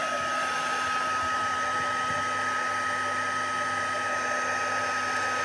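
A hair dryer blows steadily at close range as it dries handmade junk journal craft pieces, a continuous whirring drone with no break and no voices.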